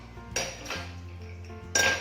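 Ice cubes dropped into a drinking glass while making a layered blue drink, two bright clinking bursts about a second apart, each ringing briefly before fading, with no voices.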